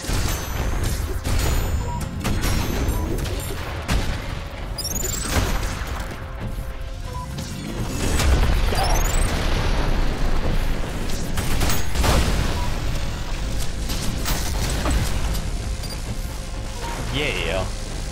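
Crashing, booming impacts from a video game's defense system sound continuously among dense game noise and bursts, loud and cluttered, while players talk over it throughout.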